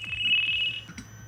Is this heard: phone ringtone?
yes